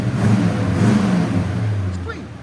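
Close, loud blip of a 1965 Oldsmobile Starfire's 425 V8 through a Borla ProXS exhaust, a low throaty rumble that rises and then settles back, with a brief voice near the end.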